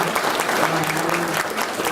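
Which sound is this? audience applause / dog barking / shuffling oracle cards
audience applause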